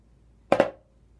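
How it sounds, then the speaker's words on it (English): A properly played snare drum flam with two sticks: a grace note landing just ahead of the main stroke, the pair merging into one broad crack that rings briefly, alone with no voices. "now let's listen to what the flam is supposed to sound like again"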